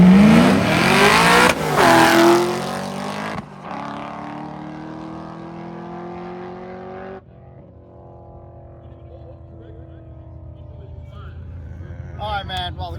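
A Camaro race car accelerates hard down the track during race week, its engine note climbing through the gears, then fading into a distant drone as it pulls away.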